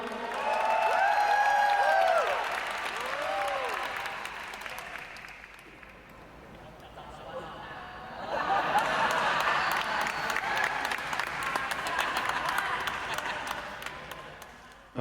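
Audience applause for the twelve contestants at the Miss Fabulous Thailand 2023 final competition: dense, sustained clapping with cheering and voices mixed in, easing in the middle before swelling again.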